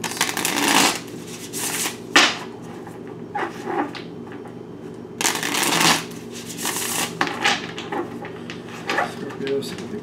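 Tarot cards riffle and slap in repeated shuffling bursts close by, with a dog barking now and then and a person talking over the cards.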